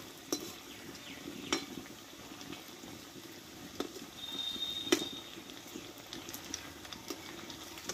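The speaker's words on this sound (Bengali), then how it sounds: "দেখো একটু আমি এইভাবে ঝান্নাটা দিয়ে আমি একটু নাড়িয়ে দেব।" Langcha sweets fry in oil as a slotted spoon stirs them, producing a soft bubbling sizzle punctuated by several sharp metal clinks and scrapes against the pan, fairly quiet and without speech.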